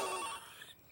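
A telephone bell rings once, briefly and faintly, the ringing tone fading quickly into quiet.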